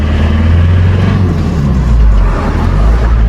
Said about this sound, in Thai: โอ้โหรถเยอะมากช่วงเลิกงานนะครับ